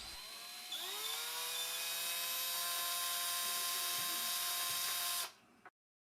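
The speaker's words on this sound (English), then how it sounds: "Go ahead and proceed with drilling." A power drill whines steadily for about five seconds while drilling holes in a plastic hop-up unit, then spins down and stops.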